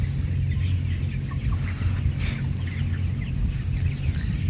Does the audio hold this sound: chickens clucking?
yes